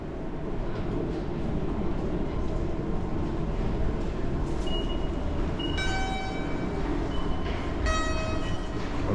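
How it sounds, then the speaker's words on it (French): A Tokyo metro train on the Asakusa line rumbles steadily and loudly underground, with a short melodic chime sounding near the end. "Le métro de Tokyo, hein."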